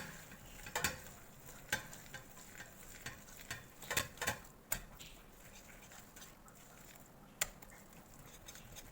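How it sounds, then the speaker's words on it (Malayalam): A spoon scrapes and knocks through thick flour batter as hot jaggery syrup is stirred in for banana unniyappam, giving a run of sharp clicks and soft sloshing at a moderate, irregular pace with no talking. "നമ്മൾ ശർക്കരപ്പാവ് ചൂടോടക്കനെ ഒഴിച്ചിട്ട് നന്നായിട്ട് മിക്സ് ചെയ്യാം"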